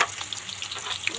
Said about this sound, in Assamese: এতিয়া ইয়াত আলুকেইপিচ ফ্ৰাই কৰি ল'ম